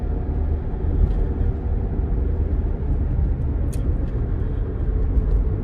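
Van driving slowly past, heard as a steady low rumble of engine and road noise, fairly close and continuous, with faint brief ticks on top.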